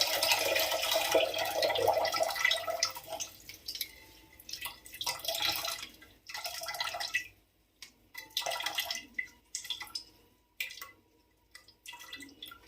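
Chhena, fresh cottage cheese, being rinsed under plenty of running water, with a steady gush of water and splashing that breaks into intermittent splashes and drips.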